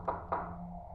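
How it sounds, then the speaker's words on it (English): Two quick knocks on a door in a house, the second following about a quarter second after the first, close and moderately loud with a short hollow ring and a low steady hum underneath. "I hear knocking again"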